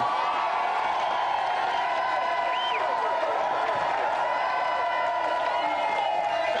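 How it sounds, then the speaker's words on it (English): Studio audience at a 1994 Christmas special of a video games TV show keeps up continuous crowd noise with cheering and applause, a steady broad wash throughout with a few whoops rising above it. "Give them a round of applause, Michael and Macaulay."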